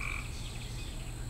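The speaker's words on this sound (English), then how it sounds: "Croaking sounds from Cedar Springs Creek played with the imagination of Christina Bee." Frogs croaking at Cedar Springs Creek in the evening, a dense continuous chorus of overlapping croaks and trills filling the background at steady loudness.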